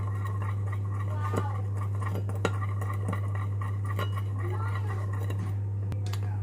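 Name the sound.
spoon stirring sugar into hot water in a glass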